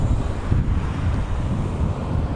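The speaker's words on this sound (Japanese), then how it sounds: "今少し横から風を受けている状態です" Crosswind buffets a cyclist's microphone on a mountain skyline road, a loud, continuous low roaring rumble with no speech.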